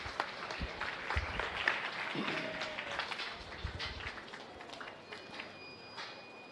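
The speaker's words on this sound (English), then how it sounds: "Give them a big round of applause." An audience at a county fair beef show claps in a sustained, moderately distant round of applause with scattered individual claps and some crowd movement, no speech over it.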